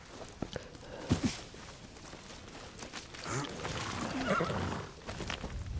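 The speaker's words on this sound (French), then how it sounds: "Oui, il y a un beau cheval bien noir." A horse whinnies amid hoof steps and ambient sounds in Ghost of Yotei on the Ishikari plains, with a steady background bed and occasional louder bursts.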